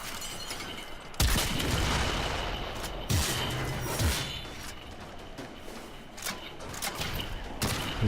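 Heavy Zarr cannon blasts from Warframe, several loud booming shots with thudding impacts spaced across the span over a busy game background.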